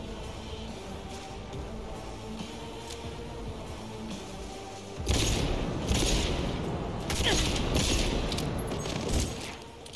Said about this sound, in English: Amidst the gunfire and the chaos